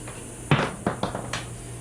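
Metal bolt dropped in a motorcycle garage while installing an IMS tank: three or four sharp close clinks and bounces over a quiet background hum.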